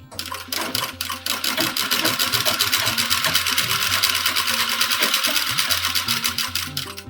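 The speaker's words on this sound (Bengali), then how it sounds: "আমি এখানে এটাকে মুড়ে সেলাই করে নিচ্ছি।" A sewing machine runs steadily at close range, rapidly stitching a folded turban piece for a Laddu Gopal costume, with an even, fast mechanical chatter that continues almost without a break.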